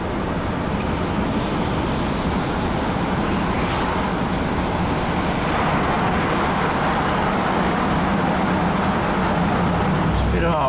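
A car drives along a road and passes under a bridge on the way to a farm, giving a steady, loud roar of tyre and road noise that fills the whole stretch without pause.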